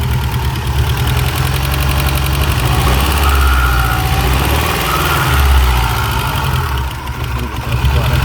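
A Shelby parked for about 20 years idles with a steady low rumble, one noisy lash adjuster ticking in a fast regular patter over the engine, recorded up close and loud throughout.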